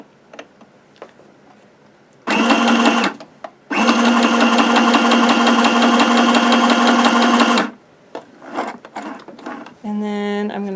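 A sewing machine runs a straight stitch across the bottom of a patchwork fabric tag in two loud, steady bursts with a short pause between them, followed by scattered clicks and a brief whirring.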